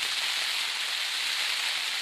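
Heavy rain drums steadily on a Marmot Vapor 2P tent camped at about 1600 m, a dense, constant hiss of drops close around with no voices.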